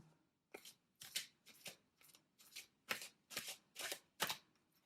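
Angel Love oracle cards are shuffled by hand in about a dozen quick, soft, papery riffling bursts, close and quiet with short pauses between them and no talk.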